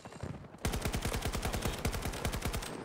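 Rapid automatic gunfire in the shooter Battlefield 2042 breaks out suddenly after a short quiet lead-in, then keeps going as a fast, evenly spaced burst of sharp, loud shots until the end.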